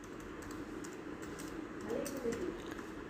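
Soft, faint clicking of a computer keyboard as HTML table code is typed, with light uneven keystrokes over a quiet background hiss.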